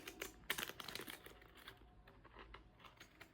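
Crimping scissors cut through a paper fruit-snack label, giving faint, close, crinkly snips and rustles in a short uneven run, with no voices.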